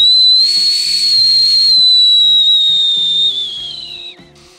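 A handheld whistle blown in one long, loud, steady tone that lasts about four seconds, then wavers, drops in pitch and fades out at the end, heard alone and up close.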